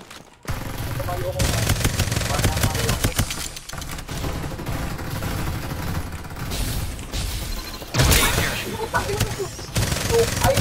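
Gunfire in the battle royale shooter Farlight 84: loud, dense bursts of automatic weapon fire with booming impacts, stopping briefly and then resuming, mixed with game voice lines.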